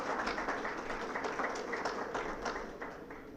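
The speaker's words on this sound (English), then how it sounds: "Can we please have a round of applause for Mr." An audience applauds at an annual retreat, a steady, dense wash of many hands clapping at even loudness throughout, with faint voices mixed underneath.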